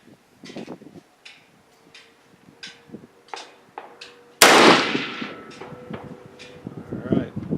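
A single sharp, loud Mosin Nagant rifle shot fired with iron sights at a 100-yard target cracks out midway, its echo trailing off, with people talking and moving around before and after.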